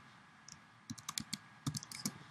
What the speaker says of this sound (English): And now it's waiting for us to type in stuff.